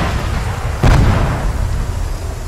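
A single explosive detonation in a video game, one deep close boom with a rumbling tail rising out of a steady background, no talk.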